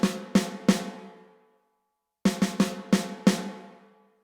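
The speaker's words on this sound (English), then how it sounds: "You're going to diddle the first stroke on the snare." Snare drum struck with sticks in a drum lesson: three single hits, a pause, then a quick double-stroke diddle with the right hand followed by more crisp hits, close and alone with no talk.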